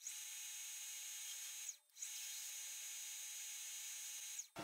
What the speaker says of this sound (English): I'm gonna just drill 9/32